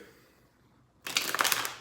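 A deck of cards is shuffled once, close up: a brief, crisp riffling burst of rapid papery flicks that starts abruptly after a second of near silence and lasts under a second.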